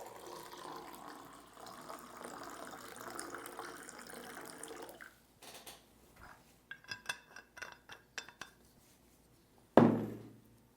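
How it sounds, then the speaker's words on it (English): Water pours into a glass in a quiet room, a low steady stream for several seconds, then a few light clinks and taps of glassware, ending with one louder knock as a glass is set down. "I'm gonna serve you and I a glass of water."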